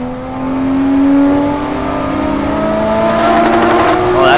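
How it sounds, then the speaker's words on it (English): A loud car engine in the racing game Assetto Corsa holds a sustained high rev, rising and falling slightly, close and continuous, with no speech. "Oh, that's a loud car, dude."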